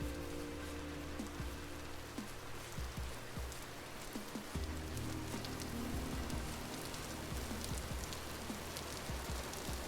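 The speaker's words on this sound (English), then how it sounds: "and now it's raining" Steady rain patters on the ground in the survival video game Vintage Story, a continuous close hiss of drops with scattered small ticks and no voices.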